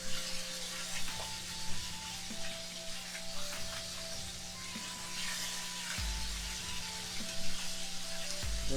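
Filet mignon searing in a hot cast iron skillet, a steady dense sizzle and crackle of fat running throughout, with a low electrical hum and faint occasional clinks beneath.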